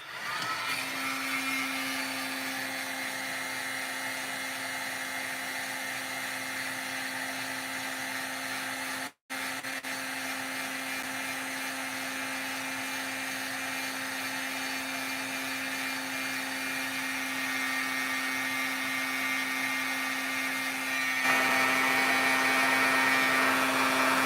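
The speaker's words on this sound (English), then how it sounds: "so I don't accidentally blow it all over the place with my heat tool" A heat tool gives a steady, loud blowing whir that runs continuously for over twenty seconds with a constant hum, broken once by a brief cutout before resuming.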